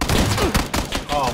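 Short rapid gunfire exchange in PlayerUnknown's Battlegrounds, close and loud, mixed with game noise and chatter over a brief burst.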